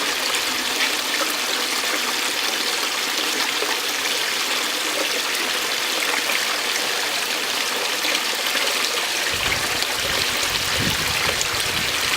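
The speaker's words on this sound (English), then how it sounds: "I'm going to grab some water from the tailings down here." Water from gold-sluice tailings pours steadily into a cup outdoors, a continuous close rushing splash that grows fuller near the end, with no voices.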